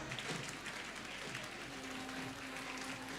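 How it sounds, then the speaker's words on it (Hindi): Audience applause greets a guest, the police superintendent, at a motivational session for students in Kota, a steady unbroken clapping from a crowd that holds for several seconds. "तालियों से स्वागत करिए"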